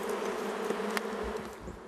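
Bees buzzing around a top bar beehive, a steady dense drone of many insects with a faint close pass or two, continuous and moderately loud throughout, with no speech.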